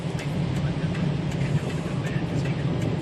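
A low car drives through deep flood water: a steady, close engine rumble under a continuous heavy wash and slosh of water, with no break throughout.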